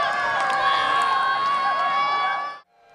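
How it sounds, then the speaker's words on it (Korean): A loud crowd watching the Nuri rocket launch from 15 km away roars and cheers continuously with shouts and whistles, then the noise cuts off abruptly near the end. "환호성이 터져나옵니다."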